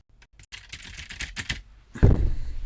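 Keystrokes on a computer keyboard tap out in short irregular bursts, close and fairly quiet, ending in a louder thump and a brief rustle.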